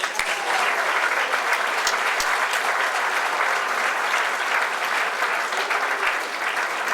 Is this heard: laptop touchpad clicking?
no